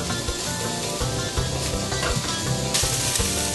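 Vegetables, including onion, pepper and mushrooms, sauté in a pan with a continuous close sizzle and occasional stirring scrapes, fairly loud and alone without speech.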